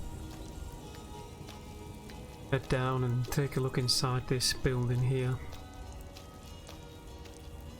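Rain falls steadily in a Skyrim city, a soft continuous patter running under a calm spoken voice throughout.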